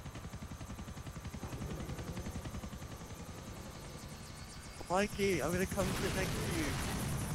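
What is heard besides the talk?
helicopter in a video game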